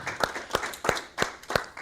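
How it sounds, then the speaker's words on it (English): An audience at a community coffee meeting claps for district emergency personnel, producing a sparse run of sharp, evenly spaced claps about three per second, fairly close and steady, with no voices. "let's give them a round of applause to begin"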